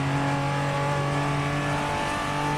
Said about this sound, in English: This Supra is a lot of fun to drive, though.